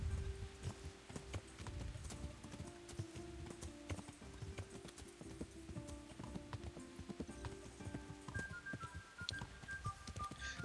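Horse hooves clip-clopping at a steady walking rhythm in a video game, soft and continuous with faint in-game tones behind, no talk.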